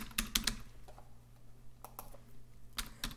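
Code is typed on a computer keyboard in Android Studio: a few quick bursts of light key clicks separated by short quiet gaps, close and soft, with no talk.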